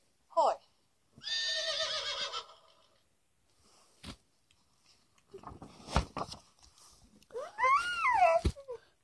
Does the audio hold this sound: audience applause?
no